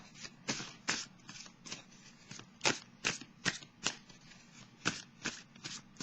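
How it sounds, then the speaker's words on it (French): A tarot deck is handled and shuffled before a card is drawn, giving a run of crisp riffling snaps at a steady, uneven rhythm, close and fairly quiet, with no talking. "Je vais piger une carte, les messagers de l'univers."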